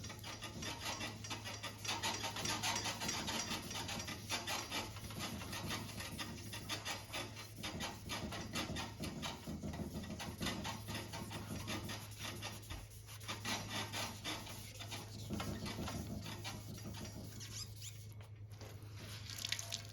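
A hard sanding block rubs back and forth over wet car clear coat in a quiet, continuous rasping scrub, close up over a low background hum.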